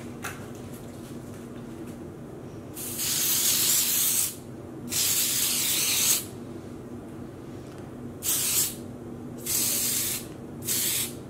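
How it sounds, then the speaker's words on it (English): Wilton's Color Mist food coloring spray is sprayed onto yarn in black, coming as several loud hissing bursts of one to two seconds each, separated by quiet pauses. "Hopefully there isn't too much overspray."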